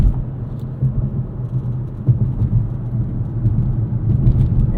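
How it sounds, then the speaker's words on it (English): Road noise inside a 2025 Nissan Kicks SR while driving, a loud constant low rumble from tires with a steady cabin drone and no talking. "it honestly has been a while since I've driven something with this much road noise"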